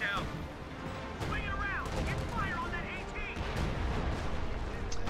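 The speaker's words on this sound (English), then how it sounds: "Major artillery dropped on Grenadiers, doesn't look like it's going to hit anything" An artillery barrage falls in the Company of Heroes World War II strategy game as heavy shells rain on German Grenadiers: dense, continuous rumbling blasts with scattered cracks of gunfire, while a commentator talks throughout.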